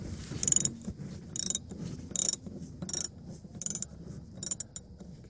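A socket wrench ratchets on the front band adjusting screw of a Dodge diesel 48RE transmission, giving short bursts of rapid clicking about once a second, close and clear over a low steady hum.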